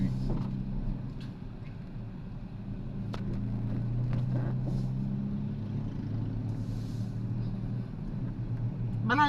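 A motor engine runs steadily through the whole stretch, a continuous low drone holding at even loudness beneath people talking, with a brief louder burst near the end.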